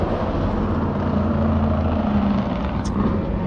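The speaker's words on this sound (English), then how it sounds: "that's one of the Thunder Racing cars. It's like a stock car." Thunder Racing stock car engine droning at Road Atlanta, a steady loud low rumble heard from trackside with a constant mechanical hum throughout.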